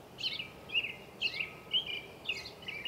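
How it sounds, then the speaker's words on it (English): Birds chirp in a repeating pattern of bright, high calls, fairly faint over quiet background hiss. "can you guys hear the birds?"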